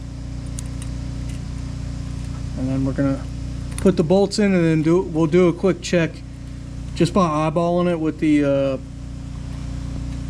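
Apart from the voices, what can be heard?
neighbor's pressure washer running in the background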